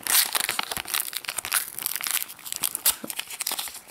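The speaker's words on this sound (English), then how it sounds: "I almost ripped the stickers on Elsa." A Frozen sticker album packet is torn and crinkled open close up, with dense, continuous crackling and ripping of thin foil-like wrapper throughout.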